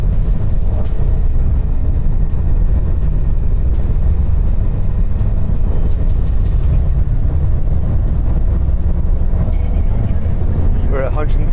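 Engines of the world's largest airplane roar through its takeoff roll, a loud, dense, continuous low rumble that stays steady throughout, heard from inside the aircraft.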